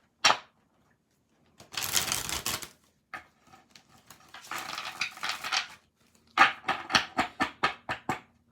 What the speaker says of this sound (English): And I'm just shuffling the cards.